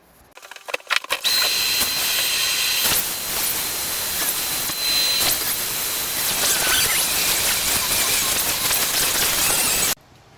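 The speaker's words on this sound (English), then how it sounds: "let me get my angle grinder. We're gonna start on here." An angle grinder cuts into a Jacuzzi bathtub, spinning up after a few short handling knocks into a loud, steady, harsh abrasive whine that holds for about eight seconds before stopping abruptly.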